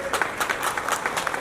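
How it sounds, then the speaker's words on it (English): Applause rises from a gathered audience at a store opening, the 100th DIY store launch, a steady patter of many hands clapping close by for a moment, with a voice faintly mixed in. "Can we have a huge round of applause,"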